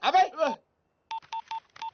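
Telephone dialing tones in a comedy film scene: after a short burst of speech, five brief touch-tone beeps sound in quick, even succession.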